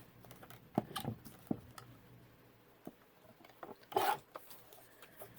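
A strip of paper for a paper-quilt journal card being cut: a few sharp crisp cuts and rustles, close and moderately loud, with quiet pauses between them.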